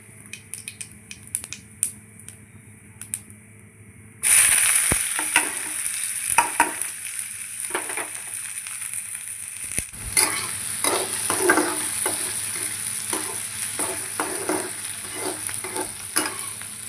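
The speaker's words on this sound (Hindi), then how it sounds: "हींग और जीरा डाल दिया था मैंने तड़के में, और साथ में ही फिर मैंने कटा हुआ प्याज डाल दिया है।" Chopped onion goes into hot mustard oil already holding asafoetida and cumin in a kadhai. A quiet, clicky start gives way to a sudden loud, steady sizzle, with scraping stirs and taps of the spoon continuing throughout.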